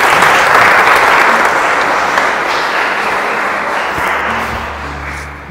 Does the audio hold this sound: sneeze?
no